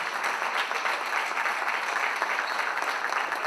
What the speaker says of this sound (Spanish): Fuerte los aplausos para esta mesa de mujeres